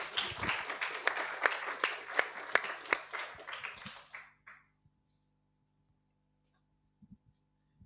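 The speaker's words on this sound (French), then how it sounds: "Mais on vous applaudit." Audience at a book prize ceremony applauding the winner: steady clapping from a modest crowd for about four seconds, then an abrupt stop followed by near silence with a few faint knocks.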